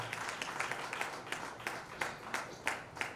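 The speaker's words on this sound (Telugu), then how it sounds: "మనందరం చప్పట్లు కొట్టి వారిని ఆహ్వానిద్దాం" An audience claps to welcome guests onto the stage at an engagement ceremony, with steady, moderate applause and sharp individual claps standing out throughout.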